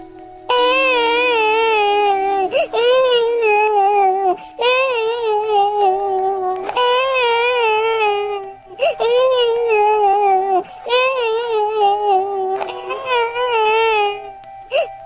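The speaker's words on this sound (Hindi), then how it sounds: "अरे ये किसकी रोने की आवाज है?" A woman wails and sobs in long, drawn-out cries broken by short breaths in an animated Hindi story, loud and close, with a faint hum beneath.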